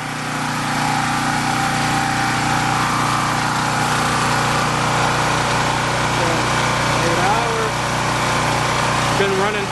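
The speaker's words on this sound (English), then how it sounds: "Alright, the compressor just kicked on." A Powermate 3250 watt generator drones steadily while powering a 12,000 BTU air conditioner whose compressor has kicked on, a constant close engine hum with a brief voice near the end.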